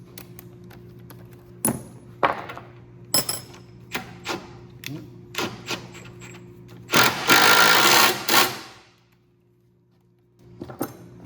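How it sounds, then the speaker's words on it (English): Ratcheting and clicking of a wrench on a bolt under an MK4 Jetta TDI during a transmission swap, with sharp metallic clicks, then a burst of rapid ratcheting, over a steady low hum. "So you can fit the wrench up in there."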